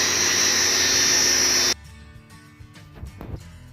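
Power tool cutting through a 1-inch thick plastic cutting board, a loud steady whining buzz that runs for under two seconds and then stops abruptly, followed by quieter handling clatter and small knocks.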